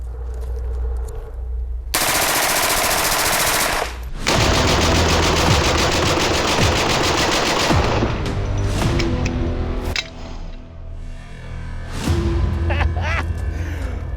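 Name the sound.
automatic gun fired at a target, emptying the magazine in one go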